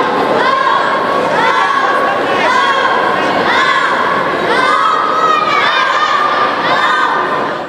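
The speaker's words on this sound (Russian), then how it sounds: "Бодрый настрой пловцов в заплывах поддерживали болельщики из числа спортсменов" Young athletes who have finished their races cheer on swimmers at a local pool competition, a loud, sustained crowd of shouting children with rising and falling whoops echoing under the indoor roof.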